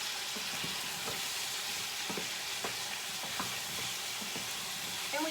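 Minced garlic and about half a teaspoon of thyme sizzle steadily in a hot pan alongside browning potatoes, a continuous bright frying hiss with soft stirring scrapes and small pops throughout.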